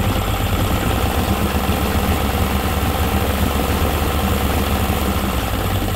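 A Yamaha 50hp outboard engine (62F-80) with a carburettor fault runs loud and close in a steady, dense drone, with no voices over it.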